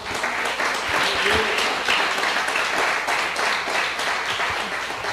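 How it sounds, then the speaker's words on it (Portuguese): A church congregation fills the room with steady, dense applause at an evangelical service, loud and continuous throughout with faint voices beneath. "Será que você pode dar uma salva de palmas a Ele?"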